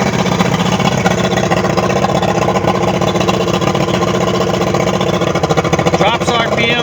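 A Yamaha 150 HP outboard engine on a Skeeter boat runs at a steady, loud, throbbing idle for several seconds, with a voice talking over it near the end.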